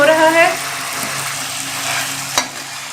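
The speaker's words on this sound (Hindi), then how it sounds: "हमारा मसाला अच्छे तरीके से भून चुका है" Masala spice paste fries in a pan with a continuous close sizzle, punctuated by a brief scrape of stirring, while a faint tonal sound fades out at the start.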